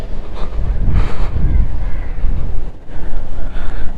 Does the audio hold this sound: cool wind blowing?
yes